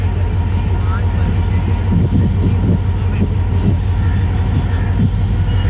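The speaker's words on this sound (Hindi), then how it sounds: "ट्रेन ने चलना शुरू कर दिया।" A train pulls out of Landhi railway station in Karachi with a continuous loud rumble of wheels and carriages and occasional faint wheel squeals, and voices can be heard faintly in the background.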